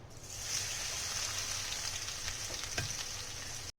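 Spiced okra frying in hot mustard oil, a steady, loud, close sizzle that holds evenly throughout, with a few light stirring clicks near the end.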